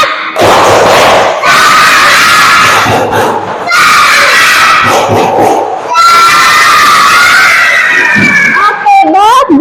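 A classroom of elementary school children clap and shout together in loud bursts, a rhythmic group chant with cheering close by.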